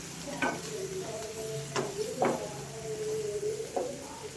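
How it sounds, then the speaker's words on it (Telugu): A spoon scrapes and stirs turmeric into egg curry in a pan, four or five distinct clinks and scrapes over a soft steady sizzle, close and fairly quiet. "నెక్స్ట్ పసుపు వేస్తున్నాం మేము. బాగా మిక్స్ చేయాలి."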